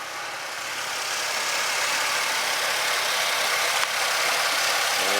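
A 2000 Pontiac Grand Am's 3400 V6, with an overheating problem, runs at a steady idle, an even broadband hum heard nearby without any talk.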